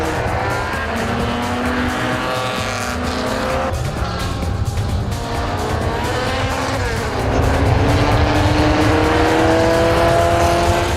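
An Aston Martin DB2 historic race car competes at the Algarve Historic Festival, its engine roaring loud and continuous with rising and falling pitch as it accelerates, and tire squeal joins the steady race noise.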